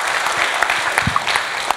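Audience applause during a talk about technology, a close, lively burst of many hands clapping with scattered sharper claps and faint crowd murmur.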